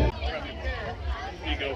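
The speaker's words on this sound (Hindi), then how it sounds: "ये रही भीड़ आज की ईस्टर" Crowd murmur and chatter at an Easter celebration in a park, a steady close babble of many voices throughout.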